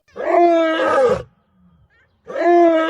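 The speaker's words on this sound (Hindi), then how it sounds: "जब रियलिटी में एक मर्द शेर दहाड़ता है तब कुछ ऐसा सुनाई देता है" A male lion roars twice at close range, each a loud, rough, drawn-out bellow separated by a short silence.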